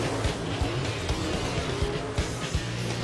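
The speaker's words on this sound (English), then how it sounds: "Here we go, green flag style final heat race here tonight." Dirt race cars roaring off at the green flag of a final heat race at night, a loud, dense engine drone with rising and falling surges, no voices.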